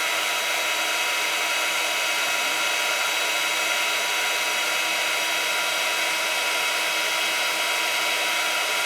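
A heat tool blows hot air over embossing powder on a card, a loud, constant, close whirring roar that runs unbroken throughout with no talking.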